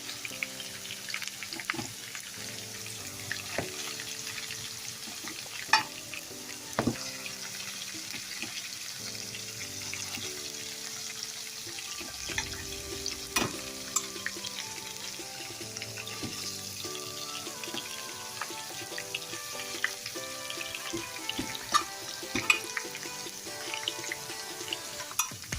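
Chicken pieces fry in a casserole pan with a steady, moderate sizzle and occasional sharper crackles, sitting under continuous background music throughout.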